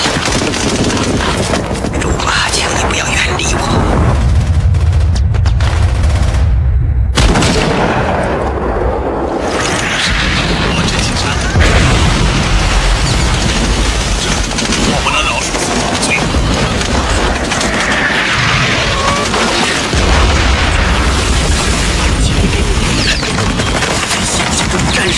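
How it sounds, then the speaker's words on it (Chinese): Machine-gun strafing and explosions ring out during a war-film assault on a bunker in Saving Private Ryan, with dense, continuous gunfire and heavy booms filling the scene and shouting voices mixed in. "在那里面可以躲过上面的机枪扫射"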